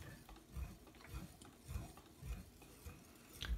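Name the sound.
stirring crêpe batter by hand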